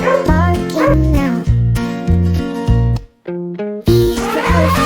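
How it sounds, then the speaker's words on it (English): A dog barks in repeated rhythmic yips within a bright children's alphabet nursery song, loud and upfront over the backing music. "D for dog, barking now."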